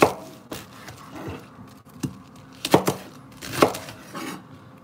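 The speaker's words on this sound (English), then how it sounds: "We're gonna trim the bottom off and cut your Brussels lengthwise, all right, in half" A knife cuts trimmed Brussels sprouts in half lengthwise on a board, producing several separate, close chops and thunks at an uneven pace with soft handling noise between them.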